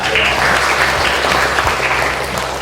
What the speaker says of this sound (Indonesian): kita berikan tepuk pada dua teman kita